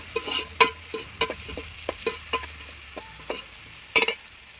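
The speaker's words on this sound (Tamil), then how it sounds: "பூண்டு போட்டு நல்லா வதக்கிட்டே இருக்கிறது." Garlic sizzling in a hot pan for a fish kuzhambu, with a spatula stirring and scraping in irregular clicks and knocks over a soft, steady fry hiss, close and fairly quiet.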